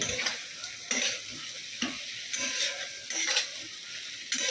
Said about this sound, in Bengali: এবার এর মধ্যে দিয়ে দেবো পটল আলু আর কাঁঠালের দানাটা এবার কষিয়ে কষিয়ে